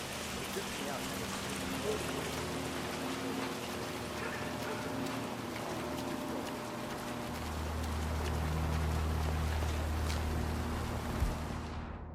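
Steady rain falls across a Chongqing street in Hitman 3, a constant broadband hiss with a low rumble that swells in the second half, while voices talk faintly underneath.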